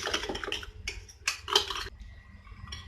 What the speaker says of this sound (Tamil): இப்போ இந்த மாதிரி நல்லா பீட் பண்ணி வச்சுக்கலாம் நம்ம எக்கை.